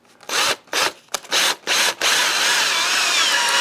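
A power drill with a Phillips bit drives long screws into wood while a shower bench is built, giving four short whirring bursts and then one long, loud run that stays close with no talk.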